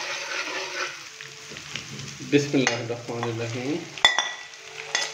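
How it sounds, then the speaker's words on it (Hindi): Ginger-garlic paste sizzles as it roasts in a pan while boiled mutton goes in, with scraping stirs and clinks; a voice speaks briefly over the cooking. "हल्का सा इसको रोस्ट करेंगे और साथ ही हम इसके अंदर बॉईल किया हुआ मटन भी डाल देंगे"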